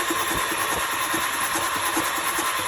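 A Volkswagen Jetta 2.0 TSI engine cranks on the starter with its spark plugs out, giving a steady, loud, even whirring churn with rhythmic pulses close by and no talk over it.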